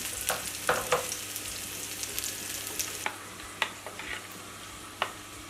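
Broccoli frying in hot oil gives a soft continuous sizzle, broken by scattered sharp spatters and occasional stirring clicks, close by and fairly quiet.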